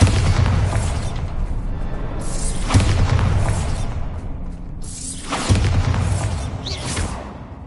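Bombarda and Confringo explosion spells cast in the video game Hogwarts Legacy: three loud booming blasts with whooshing bursts at roughly evenly spaced intervals over dense game ambience, no talk.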